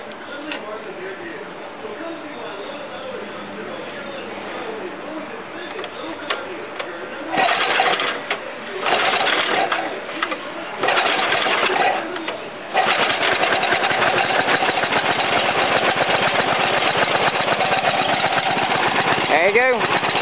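A John Deere 60 tractor engine cranks and starts, building from a rough uneven idle into a loud, steady, close-up chugging run for the second half, with a brief burst of revving in the middle.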